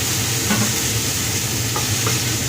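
Potato and cauliflower pieces with five-spice being stirred and fried in a pan, a steady close sizzling hiss with faint scrapes from the stirring, no talk.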